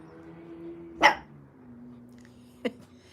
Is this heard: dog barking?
yes